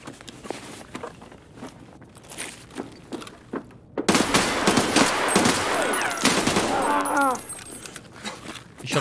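Gunfire in Escape from Tarkov: a quiet stretch of footsteps and faint shots, then sudden loud, close bursts of rapid automatic fire with ringing metallic echoes for several seconds.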